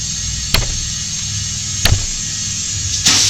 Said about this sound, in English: you just fill it up until you hear that bead pop on